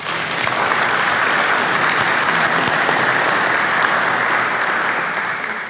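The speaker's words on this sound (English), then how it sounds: "Let's give her another round of applause." Steady, dense audience applause at a morning awards ceremony for community appearance in Winston-Salem, following a speech; continuous loud clapping fills the whole stretch with no talk over it.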